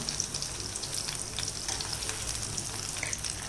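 Tomatoes frying in oil for a long beans and tomato gravy, with a continuous bright sizzle and crackle close by, broken by occasional soft stirring and turning sounds.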